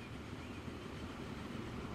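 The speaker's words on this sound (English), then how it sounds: "that was one of our other trains" A train runs in the video game Transport Fever 2, heard as a faint, steady low rumble and rolling noise that continues evenly for two seconds with no talking.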